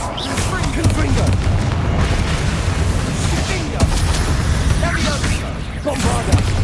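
Rapid blasting-spell explosions in Hogwarts Legacy, a dense, continuous barrage of booms and crackling bursts, with shouted voices heard through the din.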